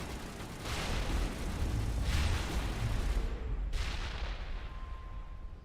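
Three heavy, booming grenade blasts from the Mass Effect video game, spaced about a second apart, each a broad low-heavy burst with a rumbling tail over dense, loud combat noise.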